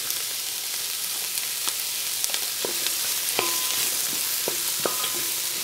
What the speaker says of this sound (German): jetzt geben wir hier unsere Zwiebeln rein und werden die noch einmal richtig schön anbraten